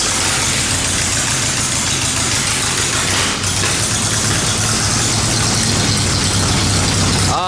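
A tractor engine idles steadily and close by with a low, even rumble that keeps running throughout, its tone shifting slightly partway through.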